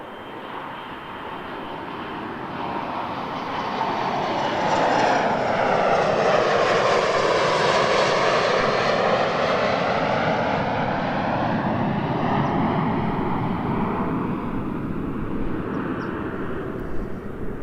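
A fixed-wing airliner roars down the runway and climbs away from Sacramento airport, its engine noise swelling to a loud, sweeping rush with a shifting whine, then holding steady as it recedes.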